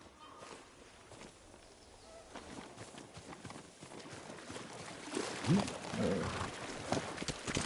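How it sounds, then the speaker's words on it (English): Horse hooves clip-clopping in Ghost of Tsushima, a steady run of hoofbeats at moderate distance that grows louder and busier toward the end, with a voice calling out over them. "Horse!"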